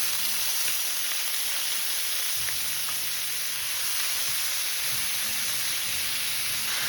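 Frozen green beans sizzle and fry steadily in a paella pan, a close, continuous hiss with a low bubbling crackle underneath and no voices.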